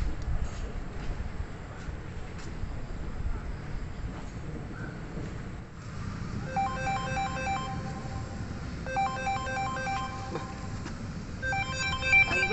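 A phone ringtone chimes in repeated melodic bursts over steady background noise, starting partway through and returning after a short pause.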